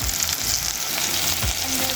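Onion frying in a generous amount of oil for fried cassava, giving a dense, continuous sizzle close by with faint stirring scrapes and no voices.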